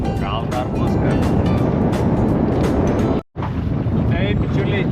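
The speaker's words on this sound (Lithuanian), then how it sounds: "vėjas yra didelis, jau laivą kelnoja" Strong wind buffets a fishing boat out on rough water during an autumn fishing trip, a loud, constant roar with gusting rumble and splashing, cut by one brief dropout near the end.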